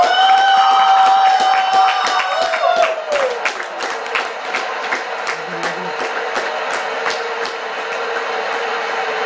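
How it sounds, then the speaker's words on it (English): Applause at a World Cup celebration and presentation honouring a cricket champion, scattered claps and crowd noise layered over a sustained musical tone that fades, with sharp claps continuing steadily to the end. "a huge round of applause for a champion"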